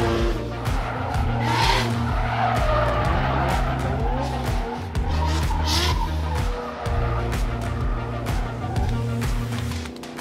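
A drift car at a Cape Town drift event skids hard, tires squealing in long bursts while the engine revs and bounces off the limiter in repeated surges, loud and close with no speech.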